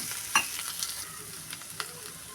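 Mashed boiled potato being stirred with a little turmeric in a pan for aloo bonda filling, giving soft scraping and faint sizzling with a few light utensil clicks, quiet and close, no talking.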